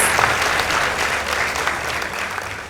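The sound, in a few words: audience applause after debate results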